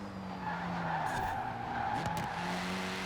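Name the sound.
car sliding as the back end oversteers, Forza Horizon 4 video game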